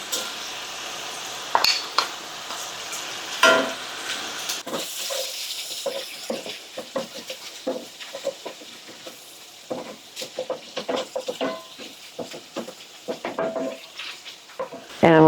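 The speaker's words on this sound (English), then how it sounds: "So I'm going to put in 2 tablespoons of butter." Butter going into a hot pan that was used to brown sausage, the start of a roux: faint sizzle with scattered clinks of a utensil against the pan and stirring scrapes, no talking.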